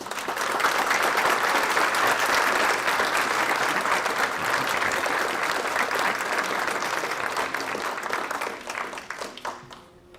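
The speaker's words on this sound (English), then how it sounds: "Please join with me with a warm round of applause for Dr. Jacobson" A large audience at a Human Rights Day awards ceremony breaks into a warm round of applause, loud and dense at first, then gradually thinning out and fading over about ten seconds.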